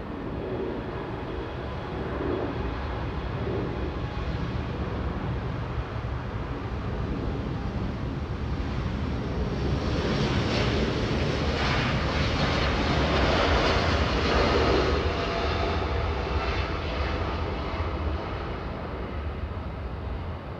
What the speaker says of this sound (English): We're going to go to the 737, Alaska touching down, flying in from Portland